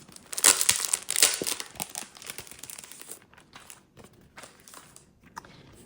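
Paper crinkling and rustling as a Winnie the Pooh greeting card and its matching envelope are handled and opened, loud crisp crumpling at first, then quieter scattered rustles and taps.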